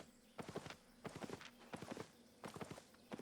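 Horse hooves clip-clop in the game Albion Online, a tier 3 mount moving at a steady walking rhythm, with rapid clusters of hoof strikes repeating about every second, quiet and alone.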